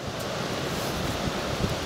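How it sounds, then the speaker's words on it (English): Strong wind roars across an open garden allotment plot, a steady, loud broadband rush buffeting the microphone, with no voices. "it's a very windy day here today"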